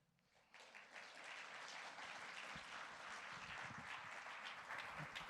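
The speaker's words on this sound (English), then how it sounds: "Why don't we give a round of applause?" A symposium audience breaks into applause after a speaker is introduced, the clapping swelling quickly from silence into a steady, even round that holds throughout.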